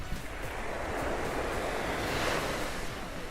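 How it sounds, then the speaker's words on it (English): Ocean surf washing onto a deserted beach, a steady broad roar of breaking waves with some wind noise, continuous and fairly close, no voices. "Sound of the ocean in your ears all night."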